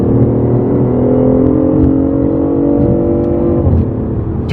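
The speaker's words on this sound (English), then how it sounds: "You can literally hear the electric motor and the gasoline motor going out at the same time." A BMW i8 hybrid accelerates with its electric motor and gasoline engine running together, giving a loud, close, rising whine layered over a throaty engine rumble that builds steadily for several seconds.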